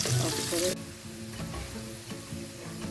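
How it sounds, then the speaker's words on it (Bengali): Onions fry in a pan over medium heat for a Kolkata-style chicken curry, a close, steady sizzle with stirring scrapes, joined partway by soft background music tones. "মিডিয়াম আঁচে আমি পেঁয়াজটা ভাজবো।"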